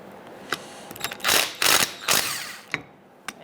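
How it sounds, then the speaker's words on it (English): A ratchet with a 13mm socket works on the front brake caliper bolts of a 1998-2011 Ford Ranger. A few clicks are followed by three loud, close, rasping bursts of rapid ratcheting and then scattered clicks. "So I'm gonna use a 13mm socket."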